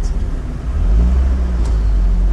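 Fiat Barchetta roadster pulling away from a stop sign on a country road, its engine rumbling low and steady and building slightly as it accelerates, close and continuous with no talk.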